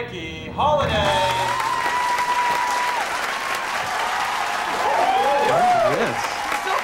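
Audience applause for a singer, starting abruptly and holding steady and full for several seconds, with a voice talking and a whistling melodic tone running over the clapping.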